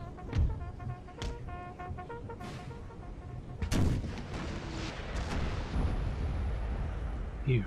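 Howitzer artillery booming across a Napoleonic battlefield in the strategy game Napoleon Total War, several heavy blasts at irregular intervals over a dense backdrop of rumbling gunfire, with a voice talking over it.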